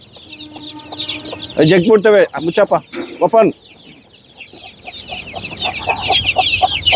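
Native nati chickens cluck and squawk in a burst of loud, close calls, while people talk nearby and birds chirp steadily in the background.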